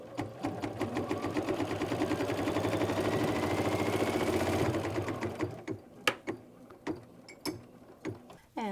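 An embroidery machine stitches a quilt block held in the hoop, a fast, steady mechanical whirring for several seconds that then stops, leaving a few isolated clicks and taps close by.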